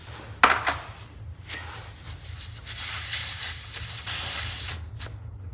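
Air hisses from a car tire valve as an external TPMS sensor is screwed on, a close, sustained breathy hiss that swells and fades among short metallic clicks and handling sounds.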